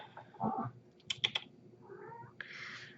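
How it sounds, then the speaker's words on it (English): A pet cat meows a few short times indoors, with soft clicking taps in between and a quieter final call, fairly close and faint. "And if you hear my cat, she's just meowing,"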